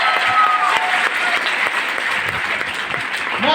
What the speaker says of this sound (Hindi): एक बार तालियां बजा लो खुद के लिए।